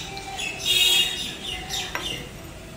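Birds chirp in greenery on an evening outdoors, bright tweets rising over soft background ambience and fading in and out across the short stretch.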